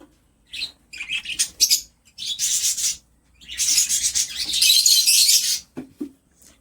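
Lovebirds in a cage give bursts of shrill chirping and scratchy chattering calls, close and loud, broken by short pauses.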